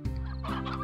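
Hens in the Slime Rancher video game give a brief burst of throaty clucking, close and clear, less than a second long with no talk over it.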